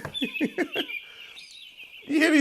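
A bird-chirping sample played on an MPC One: quick bursts of bright, close calls over a steady high tone, ending in a louder, fuller burst of sound.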